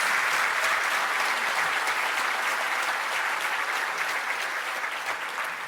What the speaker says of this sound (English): A round of applause for all of these